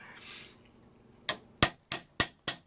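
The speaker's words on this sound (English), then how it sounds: "I just tap it all the way around until I create a mushroom" A tiny ball peen hammer taps a metal axle end on a restored Dinky 153 Vanguard die-cast toy car, giving five sharp, close metallic clicks at a steady, unhurried rhythm after a quiet start.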